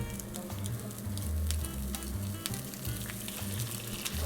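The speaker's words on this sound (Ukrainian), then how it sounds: "І добре вижарюємо шкварки." Pork cracklings sizzle and crackle steadily in a hot pan with a little oil, a continuous loud frying hiss with scattered pops throughout.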